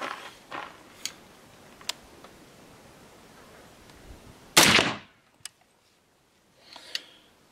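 A single sharp, loud gunshot from an FN FN15 Tactical 300 Blackout rifle fitted with a muzzle device, cracking out once and cutting off abruptly, with faint clicks and handling noise before and after.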